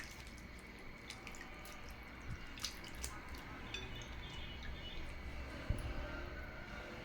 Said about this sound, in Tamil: 2-3 தடவை நல்லா தண்ணியில் கழுவிட்டு தண்ணியெல்லாம் வடிச்சிட்டு எடுத்துகிட்டு வந்துடலாம்